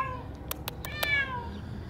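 A stranded cat in a drained, emptied swimming pool meows a few times, short, fairly faint cries with soft background noise.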